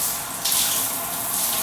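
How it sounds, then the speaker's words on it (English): Shower water runs steadily as a broad, even hiss, close and continuous, with a slight surge partway through. "Let me take my shower."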